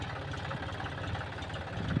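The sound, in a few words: tractor ploughing field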